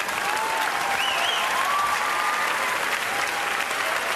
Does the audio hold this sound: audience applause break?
yes